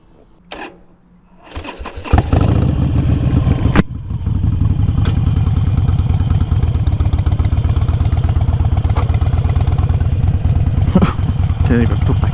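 2013 Harley-Davidson Sportster 48 1200cc motorcycle engine cranks and fires up, then settles into a loud, lumpy, rhythmic idle rumble close by, with a few clicks and knocks over it.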